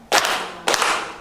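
Two loud, close hand claps roughly half a second apart, each followed by a brief room echo, during a rhythm counting exercise.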